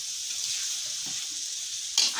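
Beef bun filling, with homemade tomato sauce mixed in, sizzles steadily in a frying pan while being stirred, a constant close hiss with a sharp spoon-scrape burst near the end.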